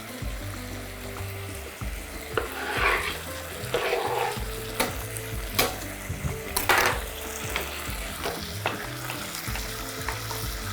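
Onion and small-diced carrot fry in a pan while being stirred, a close steady sizzle punctuated by bursts of scraping and sharp utensil knocks against the pan.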